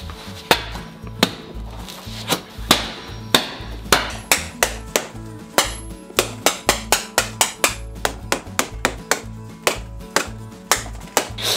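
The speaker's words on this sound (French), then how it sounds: "Elina, je te laisse 2 minutes pour casser le mur." A hammer breaking through a wall of many layers of cardboard, delivering loud, close, dull thwacks that start spaced out and then speed into rapid, repeated blows, with no talking.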